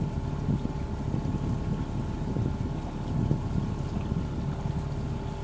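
A sailboat under way in the Whitsundays, with steady broadband wind and water rush over a low, continuous rumble, constant and close throughout with no talking.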